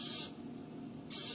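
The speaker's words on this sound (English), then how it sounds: "I'm going to take a little bit of cooking spray" Cooking spray hisses from a can onto a spoon in two short, close bursts separated by a quiet pause.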